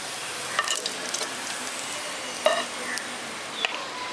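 Sliced onions frying in hot oil for soybean korma, a steady low sizzle with occasional clinks of a spoon against the pan as they are lifted out.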